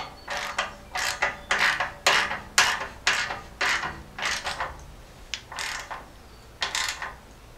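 Ratchet wrench tightening new flange nuts while installing a lift on a 1978 Jeep J10, with about ten quick bursts of clicking in an uneven rhythm, close and fairly loud, with no voices.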